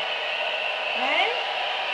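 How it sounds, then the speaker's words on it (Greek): A hair dryer blows steadily on a Shih Tzu after his bath, a constant close airy whoosh with a brief voice-like sound rising partway through. "Έχει μάθει και το πιστολάκι το παιδί."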